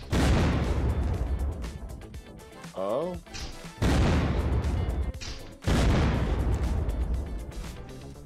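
Explosions in the survival game Unturned during a raid go off as several heavy booming bursts, loud and close, separated by short gaps, with a brief spoken exclamation between them.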